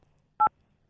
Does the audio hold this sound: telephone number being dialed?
yes